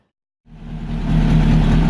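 After a brief silence a Volkswagen Type 4 engine catches and runs, its mid-pitched idle building quickly and then holding a steady, close, even drone.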